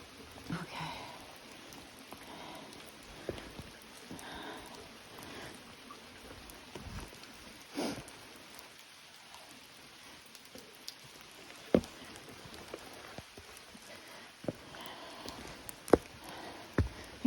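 Rain falling on wet boulders along the Appalachian Trail in Mahoosuc Notch, a soft, steady outdoor patter with scattered sharper drops and light ticks throughout, no talking.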